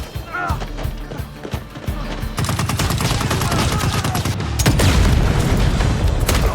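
Gunfire and explosions in an action scene from the film Nobody 2: rapid shots and booms build into a loud, continuous barrage of automatic fire and blasts.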